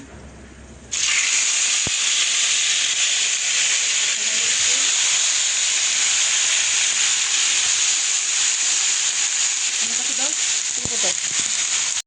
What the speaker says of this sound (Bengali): এখন টমেটোটা আমি কড়াইতে দিয়ে দিচ্ছি।